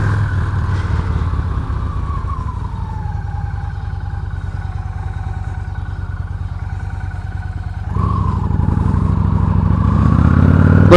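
Motorcycle ride home in changing weather, a steady loud engine drone with wind rush throughout, the engine note shifting near the end as it picks up speed.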